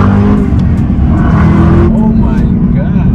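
A Chevrolet Camaro ZL1 accelerates hard with a loud, steady, close engine roar, and a voice speaks over it.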